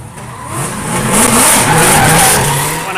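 Nissan S14.5 drift car sliding through a qualifying run, with a loud sustained engine roar and a broad hiss of tire noise that swells in the middle and eases slightly toward the end, no voices.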